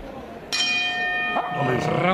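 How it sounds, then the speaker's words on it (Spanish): A boxing ring bell rings clearly once to end a round in a professional bout, and its tone rings on and decays under an excited commentator speaking Spanish, with a second fainter strike later. "¡Campana! No hay más."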